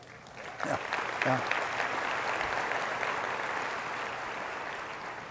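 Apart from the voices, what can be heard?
audience applause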